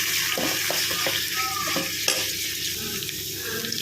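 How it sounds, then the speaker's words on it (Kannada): Chopped green chilies and curry leaves, for a fenugreek-leaf palya, fry with a steady close sizzle while a spoon stirs them in the pan with several scraping strokes. "ಎಲ್ಲ ಕಟ್ ಮಾಡಿರೋದನ್ನ ಇದಕ್ಕೆ ಹಾಕೋಣ. ಫ್ರೈ ಮಾಡ್ಕೊಳ್ಳೋಣ. ಕರ್ಬೇವಿನ ಸೊಪ್ಪು ಹಾಕ್ಕೊಳ್ಳೋಣ."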